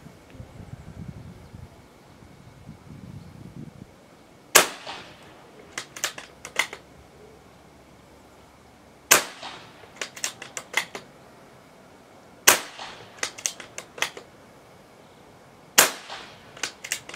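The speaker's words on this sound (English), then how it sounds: "I will do five more shots, so we know exactly how much we got left." Five shots from a Daystate Wolverine 303 .30 caliber air rifle with its regulator set, each a sharp loud crack followed by quick clicks and mechanical rattles of cycling, spaced a few seconds apart after a quiet rustling start.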